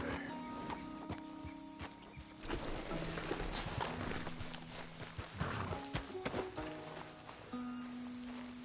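Hooves of a ridden horse clop in an uneven walking rhythm, fairly close but not loud, over faint music and scattered background noise.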